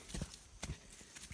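Donkey hooves clip-clop on a mountain trail in the sierra while the animal carries lunches, with a few faint, uneven steps heard close by.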